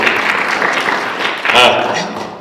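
An audience claps through a talk on election integrity in Alaska. The dense applause runs for a couple of seconds, swells near the end and then fades.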